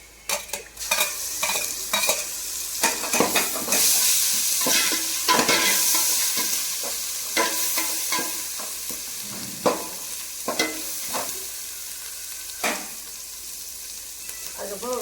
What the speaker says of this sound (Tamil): வெங்காயம் நல்லா பொன்னிறமா வதக்கிட்டு இப்போ பார்த்தீங்கன்னா மிளகா பொடி, மஞ்சள் பொடி, கொஞ்சோண்டு கரம் மசாலா, அதுக்கப்புறம் இஞ்சி பூண்டு பேஸ்ட்